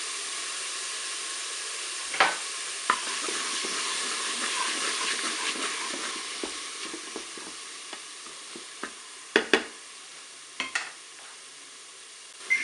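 Frozen onion sizzles in a Cookeo electric pot, a steady steamy hiss that rises and then settles, broken by scattered clacks of a spatula against the bowl, louder in quick pairs toward the end.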